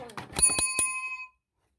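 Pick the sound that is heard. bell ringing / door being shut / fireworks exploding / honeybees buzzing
bell ringing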